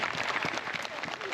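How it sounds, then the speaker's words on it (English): Applause from a crowd at a football camp session, a dense burst of clapping under talk, close and loud. "Let's give a round of applause."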